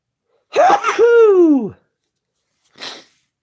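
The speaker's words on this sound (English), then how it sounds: "Now I gotta sneeze." A single loud, close sneeze with a drawn-out vocal wind-up, followed after a pause by a short breathy sniff.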